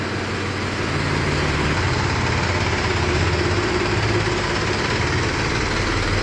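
A Massey tractor engine idles steadily up close, a continuous low rumble with throbbing vibration and no talk over it.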